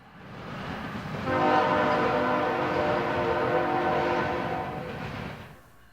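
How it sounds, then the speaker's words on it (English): A train passes through the busy railroad town of Selma, North Carolina, its rumble swelling to a loud, sustained horn blast before fading out. "Rail Tennessee brings you up close and personal to the busy railroad setting in Selma"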